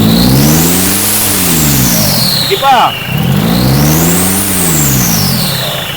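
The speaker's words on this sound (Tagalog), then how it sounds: "Pwede mo ba i-revolution dito sa yung malakas, biglayin mo." Car engine with oil leaking from the block, faulty transmission and damaged turbo, revved hard twice in a garage, each rise climbing to a loud roar and falling back, with someone speaking briefly between the revs.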